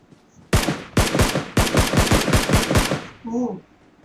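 Automatic rifle fire in the mobile battle-royale game Battlegrounds Mobile India: several close, loud bursts of rapid shots crackle in quick succession, then a short pause with a faint game sound.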